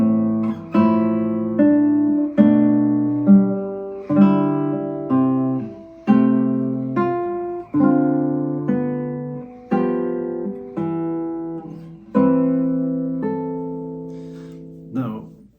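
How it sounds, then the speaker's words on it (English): A keyboard plays a triad progression with 9/8 suspensions, each chord struck and left to decay in a steady, evenly paced sequence of about a dozen attacks, with no talking. "Let me play the whole example C for you so you can hear the 9/8 suspension through the progression"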